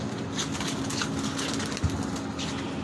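A female pigeon of a number-three crested breed coos faintly amid steady background noise and a low hum, with a soft wing flutter near the end.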